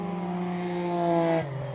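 A rallycross race car roars past close by at full throttle over a jump, its engine note steady and loud, then dropping sharply in pitch as it goes by.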